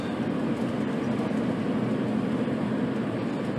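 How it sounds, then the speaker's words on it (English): A train running parallel to Highway 30 near North Powder, Oregon, at roughly 50 miles an hour, heard as a steady low rumble and rolling roar blended with road noise, continuous and fairly loud with no speech. "there's a train following me"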